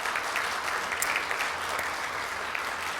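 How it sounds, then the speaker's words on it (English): Hearty applause from a Rotary club meeting crowd honoring a member, a steady dense patter of many hands clapping for three seconds with no voices over it. "Let's give her a round of applause."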